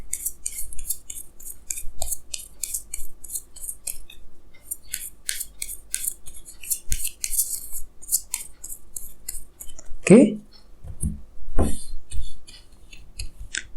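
Tarot cards are drawn and handled close up, with a scattered run of crisp flicks, snaps and light taps, and a brief spoken word partway through.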